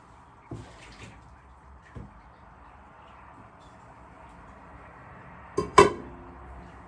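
Dishes are washed in a sink: water runs softly throughout, with scattered light clinks and a louder clatter of crockery toward the end.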